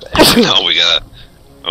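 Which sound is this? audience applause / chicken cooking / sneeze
sneeze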